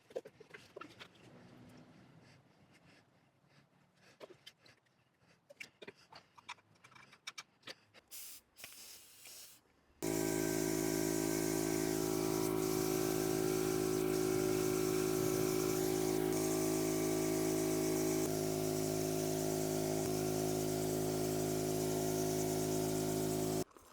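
A spray gun mists sieved glaze onto pottery in a steady, loud hissing blast that runs unbroken for over ten seconds, after quieter scattered handling noises and clicks.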